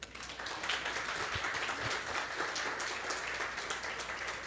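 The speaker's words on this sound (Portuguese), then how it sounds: "Podemos aplaudir." Church audience applauding to welcome a businessman speaker, a steady crowd of clapping hands at moderate level that continues evenly throughout, without speech.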